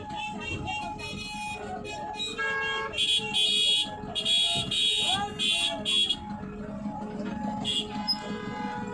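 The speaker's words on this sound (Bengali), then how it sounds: "ট্রেনের ঘন্টি চলছে যে কোনো সময় ট্রেন আসবে" A railway level-crossing warning bell at the Birpara rail gate in North Bengal rings in steady electronic tones, louder in bursts, over the rumble of a traffic jam waiting at the gate.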